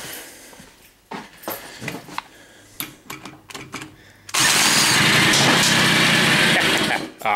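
A 32-year-old moped engine starts from cold, ticking and clattering at first, then jumps to a loud, high, buzzing whine at full throttle that holds steady before cutting back near the end.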